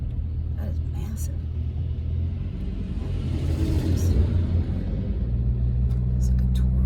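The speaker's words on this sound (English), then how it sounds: "Wow, that's a big camper bus thingy." A large camper tour bus rumbles past on a street, its deep engine drone swelling and fading over several seconds while someone speaks quietly nearby.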